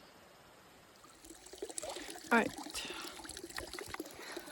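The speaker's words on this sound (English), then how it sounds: "I'm at a water source, so I'm going to get some water." A trickling mountain water source beside a hiking trail in the Pacific Northwest on a hot day, a soft steady splashing close by under a person's talking.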